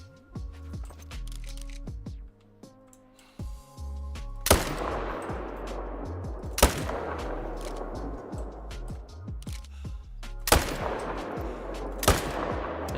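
Rifle shots aimed at a wild boar in the hunting video game Call of the Wild, several sharp loud cracks spaced a couple of seconds apart, each ringing out with a long echoing tail over quiet background tones.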